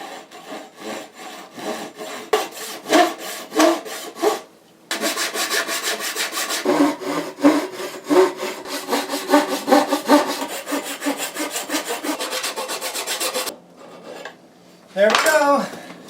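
A Japanese-style pull saw cuts through wood while building a boat's helm console, a steady rhythmic rasping of repeated strokes that runs loud and close for long stretches, with brief pauses between bursts.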